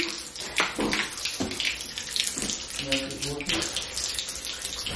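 Water gushes from a household tap under strong pressure, a loud rushing splash with uneven surges, while people talk over it at close range.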